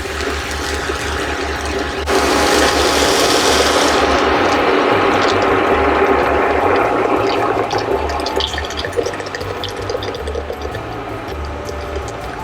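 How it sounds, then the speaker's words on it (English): Guinness pours into a pot of cooking hamburger, a loud fizzing, foaming rush that swells for a couple of seconds then settles into sizzling and crackling beneath a low steady hum. "so in goes the Guinness"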